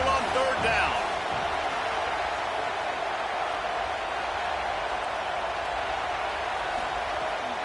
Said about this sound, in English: Here comes this home crowd as the defense tries to get off the field on 3rd down.